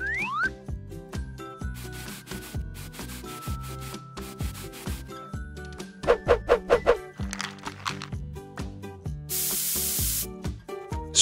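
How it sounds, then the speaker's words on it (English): A can of spray paint is sprayed on a small doll in one loud hissing burst of about a second near the end, following rubbing and tapping sounds, all over steady background music. "Spray the paint on the doll again."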